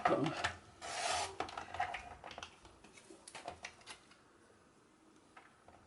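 Paper cut by hand for a card sentiment during a papercraft project, giving close, dry rasping and snipping strokes, strongest in the first two seconds, then lighter intermittent cuts tapering off.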